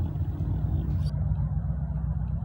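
A Nissan S14 being towed away, a low engine rumble from a tow vehicle that holds steady and moderately loud, with a brief higher rattle partway through and no speech.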